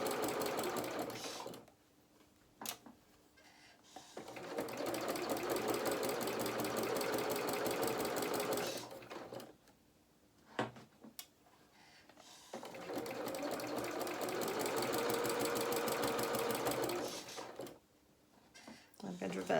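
A sewing machine stitches down a skirt seam on a small winter skating coat, whirring in two long steady runs with pauses between them and speech in the gaps.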